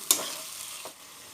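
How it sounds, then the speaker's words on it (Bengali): Spices fry in a pan as chopped tomato goes in for a chicken masala curry: a sharp clink of utensil on pan, then a steady soft sizzle with stirring. "মশলাটা একটু ভাজা হয়ে এসছে। এবার এতে আমি টমেটো কুচি দিয়ে দিলাম।"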